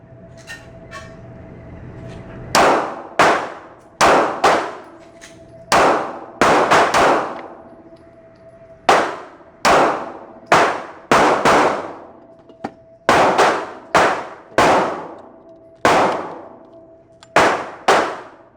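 Five-round strings from an EAA Witness 9mm pistol fired at 15 feet, sharp loud cracks spaced about a second apart with short pauses between strings, each followed by a brief ringing decay.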